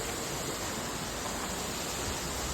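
Steady rushing water pours at a waterfall near Khopoli in the Sahyadri hills, a dense, unbroken roar that stays level and close throughout.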